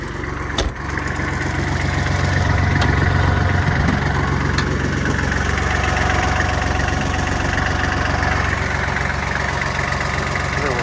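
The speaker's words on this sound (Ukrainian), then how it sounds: "вимкнемо вал відбору, реверс, передачку та поглянемо на роботу двигуна." A Kubota GL-25 mini tractor's diesel engine idles loudly and steadily nearby, a constant knocking chug with a faint click near the start.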